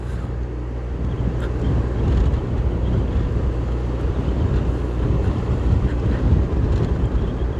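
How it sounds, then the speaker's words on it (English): Steady low wind buffets the microphone outdoors along a cycling race course in Belmopan, a continuous rumbling roar with no clear breaks. "it's very windy out here"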